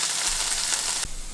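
Green chilies and onions frying in a pan over low heat give a steady, close sizzle throughout, with a brief dip and soft knock near the end.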